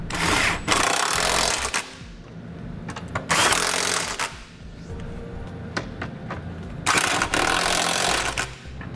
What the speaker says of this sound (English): I'm gonna come back with a 19 millimeter socket and I'm gonna snug them all up.